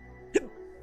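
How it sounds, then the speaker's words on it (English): One short, sharp hiccup from a man, close and fairly quiet, over a low steady background hum. "It's really hard to concentrate when you have a fucking hiccup."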